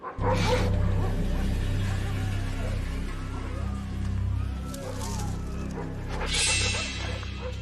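A pack of dogs barks and yips at an approaching polar bear outdoors, the calls repeated and overlapping over a steady low rumble, with a louder burst of barking near the end.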